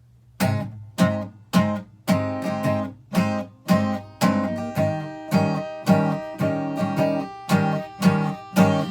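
Strummed chords ring out in a steady, evenly spaced rhythm, each stroke sharp and then decaying, the harmony moving from two bars of F back to C in a blues progression.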